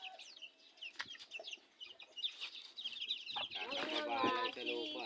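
Chickens and chicks cluck and cheep busily up close while pecking at worms in the dirt, chirps and clucks overlapping and growing denser toward the end.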